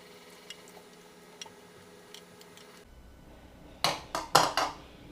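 Fish stock ladled through a strainer: after a quiet stretch, a cluster of four short, bright splashing pours with faint clinks comes close and fairly loud near the end.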